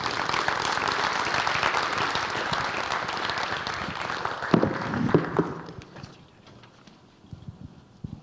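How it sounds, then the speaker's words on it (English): Audience applause at a school senior athletic awards ceremony, a dense, steady crowd clapping that runs loud for about five seconds, then thins out and fades to scattered claps. "Let's give a round of applause"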